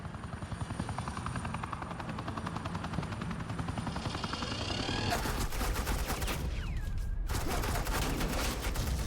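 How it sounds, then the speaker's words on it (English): Suppressing gunfire in Batman The Enemy Within bursts in as rapid, loud automatic volleys over a constant helicopter drone, ending in a sharp cutoff. "suppressing fire."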